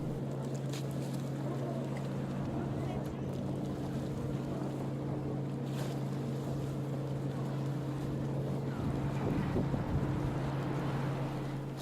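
A boat engine drones steadily at Darling Harbour on the Sydney waterfront, a low continuous hum under gusting wind noise buffeting the microphone, with a faint murmur of distant activity and no clear talk.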